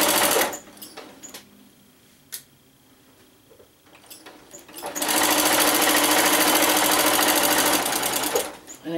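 A sewing machine runs while stitching quilted fabric for a machine cover: a quieter start with a few clicks, then a loud, steady, rapid mechanical whirr of the needle lasting several seconds before it stops.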